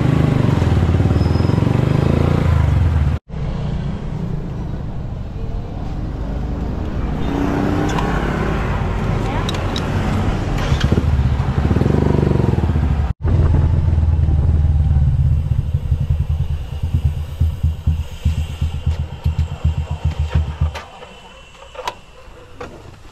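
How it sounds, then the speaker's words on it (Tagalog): Congested road traffic of cars and motorcycles, a close, steady engine rumble with clattering ticks across several cut segments, thinning to sparse knocks at the end. "Sobrang traffic."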